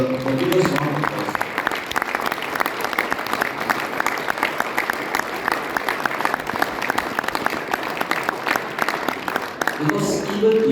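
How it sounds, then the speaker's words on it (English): A large conference audience claps for translators and interpreters in a sustained, dense round of applause lasting about ten seconds, steady and loud, with brief voices at the start and end. "give all our translator interpreter the biggest round of applause"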